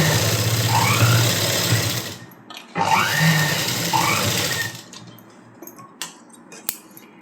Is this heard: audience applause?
no